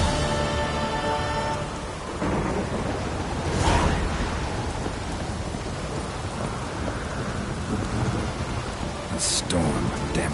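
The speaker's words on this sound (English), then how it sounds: "A storm, damn it." A rolling thunderclap rumbles through steady heavy rain in a Witcher 3 storm, with the downpour hissing continuously before and after the boom.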